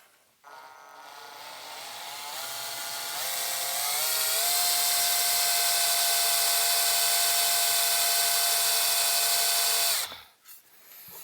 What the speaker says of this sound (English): So let's go ahead and drill our pilot holes.